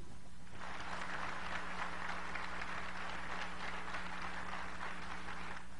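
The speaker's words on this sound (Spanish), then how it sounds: "¿De dónde surgieron los aplausos?" Sustained applause fills an assembly hall, a dense, even wash of many hands clapping that starts abruptly, holds steady for several seconds, then tapers off, heard at a moderate distance.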